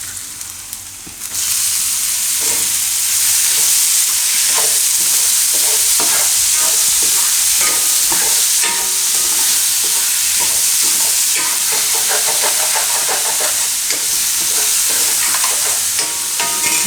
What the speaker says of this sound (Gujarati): તો પાલકને આપણે થોડીક વાર આમાં પકાવી લીધું